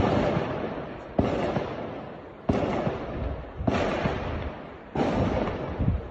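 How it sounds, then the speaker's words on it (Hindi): Bomb blasts and gunfire in war footage from a Hezbollah rocket attack on Israel: four sharp, loud explosions at regular intervals, each followed by a rumbling, crackling decay, with no talk. "तो इस वीडियो में आपने देखा कि आपको बम धमाके की जो आवाज है वो सुनाई दे रही होगा।"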